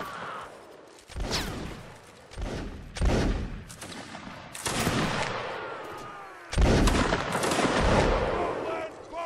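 Musket volleys in Mount and Blade: Napoleonic Wars as a 92nd line fights: loud bursts of massed gunfire at irregular intervals over several seconds, each crack trailing into a rolling echo.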